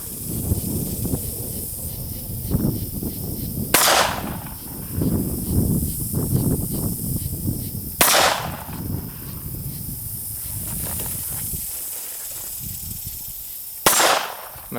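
Three loud, sharp gunshots ring out several seconds apart, each with a short decaying tail, over a continuous hissy outdoor background.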